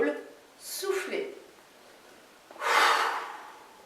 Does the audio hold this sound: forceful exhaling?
yes